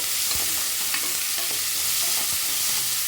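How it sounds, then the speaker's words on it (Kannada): Onions frying in an oiled pan while a spoon stirs them, a loud close sizzle broken by several scraping strokes in an uneven rhythm. "ಈರುಳ್ಳಿ ಸ್ವಲ್ಪ ಚೆನ್ನಾಗಿ ಮಗ್ಬೇಕು"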